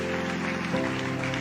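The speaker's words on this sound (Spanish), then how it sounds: "¿Puede darle un aplauso al Señor?" Applause from a church congregation rises during a worship service, a short burst of many clapping hands that stays steady and fills the room for just over a second.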